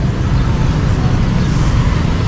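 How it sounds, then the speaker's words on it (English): Dense Saigon (Ho Chi Minh City) traffic roars steadily and close by, a continuous wash of engines and motorbikes with no breaks. "See how crazy this traffic is."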